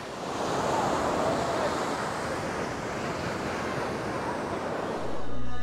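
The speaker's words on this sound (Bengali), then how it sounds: "আর এখন সমুদ্রকে আপনারাও দর্শন করে নিন" Sea waves on a beach, a continuous, fairly loud wash of surf with wind noise over the microphone, easing slightly near the end, no one speaking.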